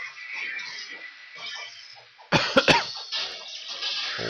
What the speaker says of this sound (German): Oh, da muss ich doch mal husten